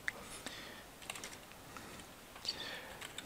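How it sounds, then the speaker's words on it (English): Quiet clicking of a computer keyboard as someone types a script into a Nas4Free setup, with light, irregular keystrokes in short bursts close by and no talking. "So I'm just going to type that in."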